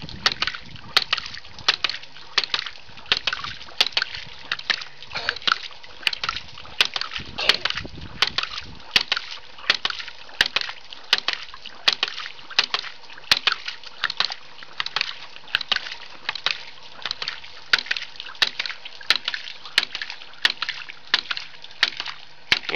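A homemade ram pump runs steadily, its valve snapping shut in a fast, regular clatter of sharp knocks repeating about twice a second, close and fairly loud, with faint water noise between beats and no talk.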